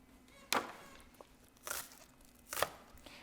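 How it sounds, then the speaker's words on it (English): A knife chops green onions on a cutting board with three sharp, evenly spaced strikes, close and fairly quiet over a faint background hum. "So I'll just go ahead and chop the green onions."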